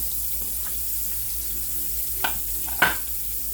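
Flounder fillets frying in a pan give off a faint, steady sizzle, interrupted by a couple of short sharp clinks or scrapes near the end.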